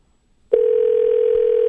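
After a brief quiet moment, a steady cell phone dial tone switches on and holds at an even, loud level without interruption.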